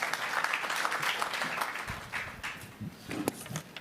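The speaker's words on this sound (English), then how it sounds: "Round of applause." Moderate audience applause at a regional sustainable energy conference, a spread of clapping heard from a distance, thinning and becoming patchier after the first couple of seconds.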